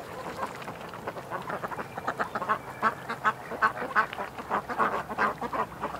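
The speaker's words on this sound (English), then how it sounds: "The little ducks." Several ducks quack repeatedly in short, irregular bursts at close range, with more steady, dense calling in the second half and no talking.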